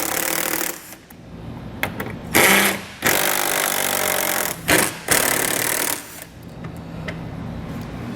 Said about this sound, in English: we're going to use a 10mm socket to remove those